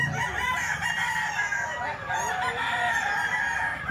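A gamefowl stag rooster crows amid a dense chorus of other roosters and clucking fowl on a farm where quality stags are kept, the calls overlapping loudly and continuously with no talk.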